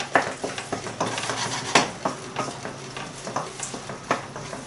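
Mushrooms, peppers and onion frying in a pan, a steady close sizzle broken by repeated scraping and clinking stir strokes of a utensil against the pan, with no voices.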